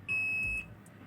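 A multimeter set to diode range gives a single short, high electronic beep during a repair of a Sennheiser ASA1 active antenna splitter, fairly quiet and alone.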